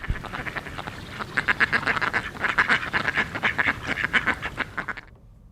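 A group of ducks quacking in rapid, overlapping bursts, loud and close, repeating steadily for several seconds before fading out.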